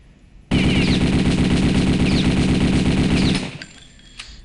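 Automatic weapon fire in the video game Return to Castle Wolfenstein: one loud, close, rapid burst of about three seconds that cuts off sharply, then a faint tail and a small click.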